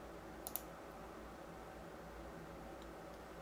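Two quick computer mouse clicks close together while working in SolidWorks CAD software, faint and brief over a low steady room hiss, then quiet.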